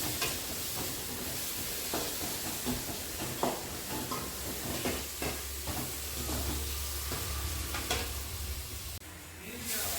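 Onion and capsicum frying with turmeric powder, giving a faint, steady sizzle and hiss while a spoon scrapes and taps in the pan at irregular intervals, quiet and close.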